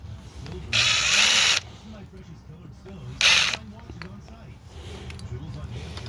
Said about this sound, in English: I can probably use the power tool